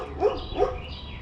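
A large, roughly 100-pound puppy gives two short, high whimpering yelps close by, spaced a fraction of a second apart, then goes quiet.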